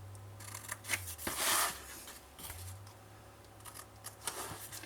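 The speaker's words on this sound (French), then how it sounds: "Alors, on coupe de la fin de l'arrondi, début de l'arrondi." Scissors cut through a notebook cover in a few close, crisp snips, with one longer, louder stretch of shearing in the middle. No voices are present.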